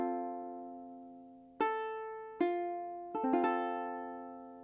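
Solo ukulele picks out the Amazing Grace melody, a handful of clear plucked notes ringing and decaying one after another, the last few arriving in a quicker cluster, close and alone.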